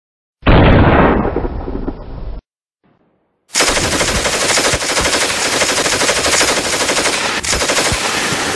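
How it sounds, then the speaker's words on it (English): Demolition charges blowing a gap in a Normandy hedgerow during an infantry assault: a loud blast, a brief near-silent gap, then a sustained, roaring burst of heavy gunfire-like explosions that runs continuously to the end. "demolitions blow a gap in the hedgerow as infantry assaults the objective"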